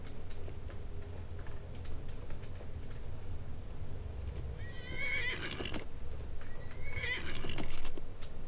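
Horse neighing in the video game Skyrim, two loud whinnies around the middle and end, over a steady bed of game ambience with hooves clopping underneath; no talk.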